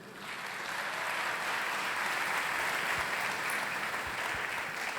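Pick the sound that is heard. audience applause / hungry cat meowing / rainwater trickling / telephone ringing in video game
audience applause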